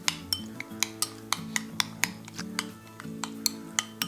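A utensil stirs soy sauce into a bowl of tofu, egg and minced chicken, clinking sharply against the dish in a steady, close rhythm of about a dozen knocks, with no talking.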